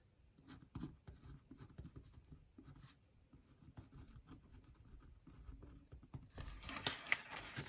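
A pen scratching across the pages of a Happy Planner in quick, soft, irregular strokes, close and quiet, with a louder rustle of paper near the end and no talking.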